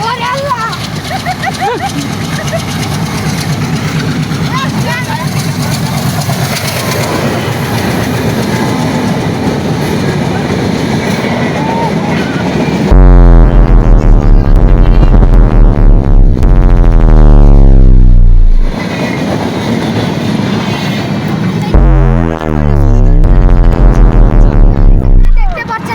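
A passenger train passes close by at Bagdapur Uttarpara in Bangladesh, rumbling and clattering loudly, with long, powerful horn blasts that bend in pitch as it goes past.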